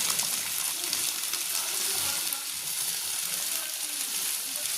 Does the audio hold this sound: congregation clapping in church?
no